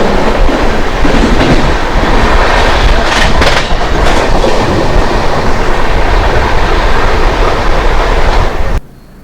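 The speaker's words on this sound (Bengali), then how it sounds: "আমাদের ট্রেন বোলপুর থেকে ছাড়লো" Leaving Bolpur station, the Saraighat Express makes a loud, continuous rumble with a rhythmic clickety-clack of wheels on the rails, heard close from on board until it cuts off abruptly at the end.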